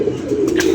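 Pigeons coo in a soft, low, steady murmur that runs unbroken through a brief moment, moderately close with no talking.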